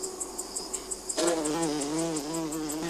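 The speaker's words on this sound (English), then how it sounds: "a Centris vitata female has chosen her breeding place" A female Centris vitata oil-collecting bee buzzes at her nest in a bamboo tube, with a close, loud, sustained wingbeat drone that rises and holds after a softer start with faint ticking.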